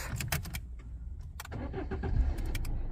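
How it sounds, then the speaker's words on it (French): A 2005 Citroën C3 cranks and fires up on a newly programmed key, with key jingling and clicks first, then a low engine rumble building and settling into a steady idle, close by. "Et ensuite, on n'a plus qu'à tester le démarrage."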